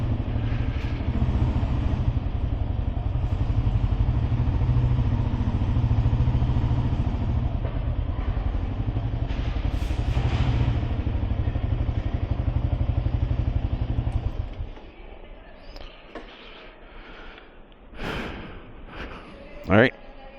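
Motorcycle riding toward San Salvador, a loud low engine rumble for most of the stretch before it cuts out, followed by quieter clatter and a few short voices.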